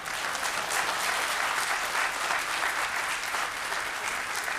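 A large audience claps steadily throughout at a spiritual discourse in Ayodhya, a dense, even roar of hands that holds at one level with no voices heard.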